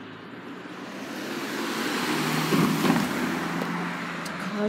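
Cars drive past on a campus road, a broad whoosh of tyres and engine that swells to a peak as one vehicle goes by close, then eases while traffic hum continues.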